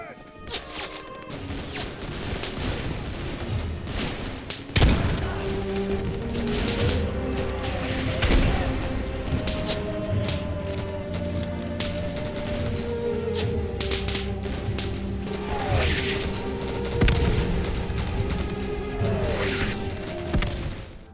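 Pacific battle in the WW2 game Easy Red 2, with continuous crashing artillery, thudding blasts and scattered gunfire over a dense background, while voices shout faintly amid the noise.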